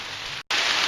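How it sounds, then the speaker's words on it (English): Rain falls steadily in the woods as a loud, dense hiss of drops on leaves and ground, broken by a momentary cut to silence before resuming just as strong. "it's starting to rain a little bit harder"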